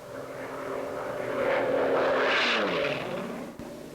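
A Bearcat racing airplane flown by Darrel Greenamyer, an unlimited-class air racer, drones past with a steady propeller-engine roar that swells to a peak midway and then fades with a falling pitch as it moves away.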